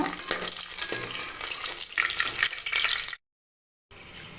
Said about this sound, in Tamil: பட்டை கிராம்பு ஏலக்காய் கிஸ்மிஸ் பழம் அன்னாச்சி பூ எல்லாம் போட்டு நம்ம இப்போ வதக்கிறோம்